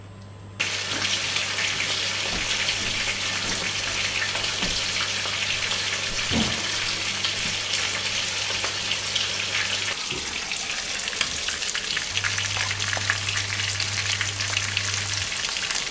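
Thin cod fillets fry in a pan with a continuous broad sizzle, while a low steady hum runs underneath and occasional small knocks and clicks break through.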